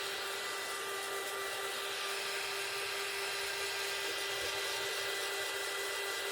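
A dryer blows steadily to dry a patriotic-themed craft tray, a constant whirring roar with a high tonal whine that runs without pause and at an even level.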